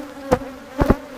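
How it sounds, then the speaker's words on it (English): Honey bees flying around beehives, a low steady hum with a few brief louder thumps or passes, near and without voices. "So bees are getting a little bit up in the air"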